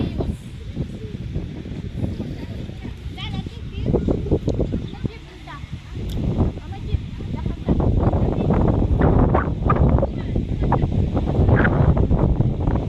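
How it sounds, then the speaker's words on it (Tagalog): Strong seaside wind buffets the microphone in steady roaring gusts, swelling louder toward the end, with people talking over it. "Lakas ng hangin. Mahangin dito sa dagat is mahangin."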